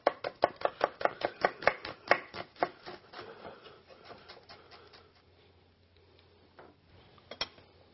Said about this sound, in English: Now the onion, we're just going to do a nice julienne on and just lay this across the top.